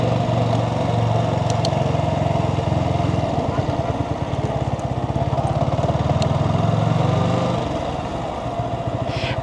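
A motorcycle rolls slowly through a parking area, its engine putting out a steady close rumble with pulsing low throttle beats that ease off near the end.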